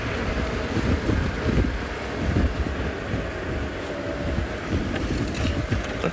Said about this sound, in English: it is a little bit windy now.